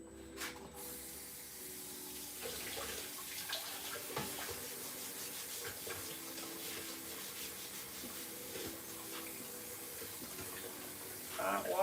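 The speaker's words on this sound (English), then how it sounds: "Hot water" Hot water running from a kitchen tap, a steady faint hiss and splash that continues throughout, with small clinks and knocks scattered over it.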